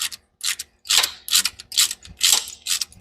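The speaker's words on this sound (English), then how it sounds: "And then we can tighten it up." A ratchet wrench tightens a bolt on a turbocharged 460 Mustang, clicking in about seven quick, close, rhythmic bursts.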